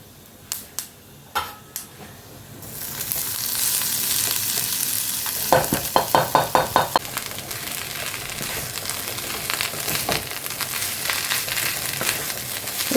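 A tempering of hing, chana dal, mustard seeds and dried red chilli dropped into hot oil: a few sharp taps first, then a loud, steady sizzle with quick bursts of popping and crackling as the spices hit the oil, close and unbroken, without talking.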